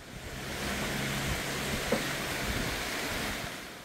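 A hidden waterfall beside a mountain valley deck path roars as a steady broadband rush, continuous and fairly close, with no voices.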